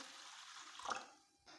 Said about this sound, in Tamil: இப்போ அரிசி ஊறுறதுக்கு தண்ணி சேர்த்துக்கோங்க.